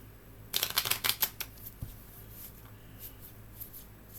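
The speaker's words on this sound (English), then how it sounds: "Shuffle the cards up." A deck of playing cards being shuffled, a quick burst of crisp riffling flutters close up lasting about a second, followed by a single soft tap and quiet room tone.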